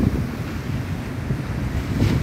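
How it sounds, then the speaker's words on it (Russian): Powerful winter sea waves on the Protaras promenade in Cyprus, heard as a constant heavy surf roar mixed with gusting wind buffeting the microphone, loud and steady with no voices. "Это такие мощные идут волны."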